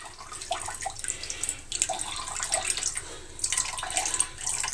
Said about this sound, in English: Gather up all the corners, lift it, and let it drain.